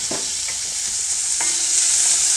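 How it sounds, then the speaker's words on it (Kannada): Onion frying in oil in a pan, a steady close sizzle with a few stirring scrapes over it, and no voices. "ಈರುಳ್ಳಿನ ಒಂದು ಎರಡರಿಂದ ಮೂರು ನಿಮಿಷ ಒಂದು ಸ್ವಲ್ಪ ಫ್ರೈ ಮಾಡ್ಕೊಳ್ತೀನಿ"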